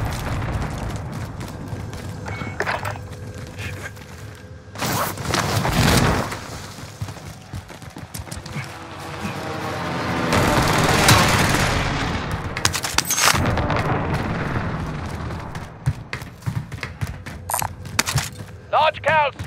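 Heavy booming airstrike explosions and rattling gunfire in the video game Warzone erupt in several bursts, the biggest blast rumbling midway, with voices talking over the chaos.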